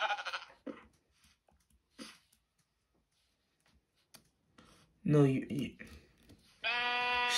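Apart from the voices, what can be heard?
sheep bleating in a video game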